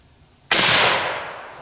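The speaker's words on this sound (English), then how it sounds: "Shoot a group there at the target on the right." A single rifle shot fired through a Rugged Razor suppressor gives a sharp, loud crack that decays over about a second, with no talking.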